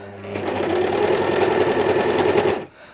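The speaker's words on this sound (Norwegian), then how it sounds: "For da blir denne strikken som skal stabilisere skuldersømmen min sydd i sammen med at jeg nå syr skuldersømmen." Overlock sewing machine stitching a knitted sweater's shoulder seam with stabilising elastic, giving a close, steady mechanical whirr for about two and a half seconds before it stops abruptly.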